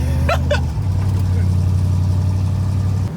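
Engine of an LS-swapped 1971 C10 pickup truck running low on fuel, a steady mid-pitched drone that bogs and won't pull, heard up close from inside with a voice talking briefly at the start.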